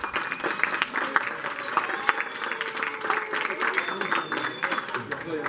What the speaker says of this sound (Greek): Ένα χειροκρότημα για το ρεκόρ του παιχνιδιού.